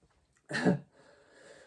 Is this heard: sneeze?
yes